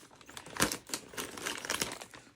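Scissors cutting open plastic parts bags for a Tekno NT48 2.2 nitro truggy, a run of crisp crinkles and sharp snips in quick irregular bursts, close and moderately loud.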